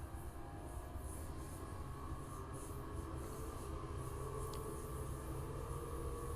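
Amtrak train on the Chicago to San Francisco route under full throttle climbing uphill, heard from inside as a steady, loud rumbling engine and rolling drone with continuous rail noise and no talk.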